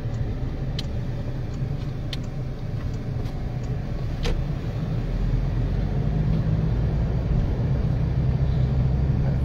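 A car on a road produces a steady low engine and tire rumble that holds at a constant moderate level throughout, with no voices.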